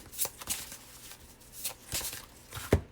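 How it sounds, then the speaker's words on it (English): Tarot cards being shuffled by hand, a series of soft riffling and flicking bursts with a sharper snap near the end, close and quiet, no talking. "I'm trying to, like, gracefully shuffle this."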